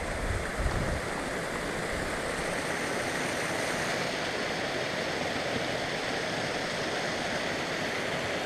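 Steady roar of a mountain waterfall on the trail from Gunsight to Lake McDonald, a dense continuous rush of falling water close by with no voices.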